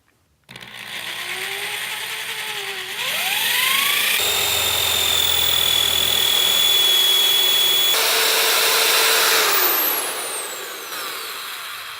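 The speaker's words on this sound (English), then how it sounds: "drill through these 4 holes." A power drill whirs up and bores steadily through a wall, its pitch rising and shifting as it runs for several seconds, close and loud, then winds down.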